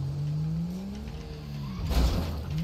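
A motorbike engine revs and accelerates inside a police roleplay video game, a steady mid-pitched drone that climbs and then swells louder toward the end, with no talking over it.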